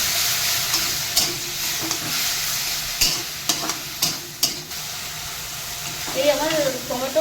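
Ground spices frying with onion in a pan for a mushroom curry, a steady close sizzle broken by sharp stirring scrapes and knocks, with a voice talking over it near the end.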